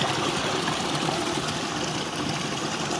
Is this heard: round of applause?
no